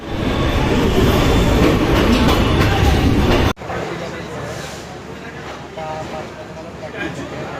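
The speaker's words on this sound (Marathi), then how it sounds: "गाडी आत्ताच चालू झालेली आहे" A moving train rumbles loudly around a passenger from inside the carriage. A sudden drop partway through gives way to a quieter, steady rolling noise with faint clicks. Someone talks over the train noise.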